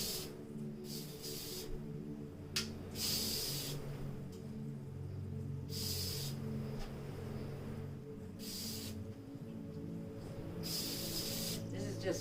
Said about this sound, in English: I'm going to spray on.